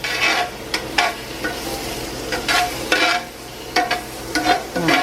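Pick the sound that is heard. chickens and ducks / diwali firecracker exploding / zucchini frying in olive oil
zucchini frying in olive oil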